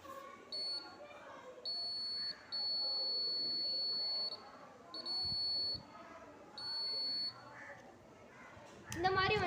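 A farm sensor alarm set off by an approaching goat sounds a piercing electronic beep in repeated long bursts of uneven length with short gaps, over faint background noise, ending with a louder clatter.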